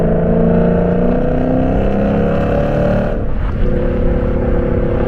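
Lexus RC F in Sport Plus mode pulls hard under load, its loud exhaust droning steadily close up, a brief dip and shift near the middle before the engine note climbs again.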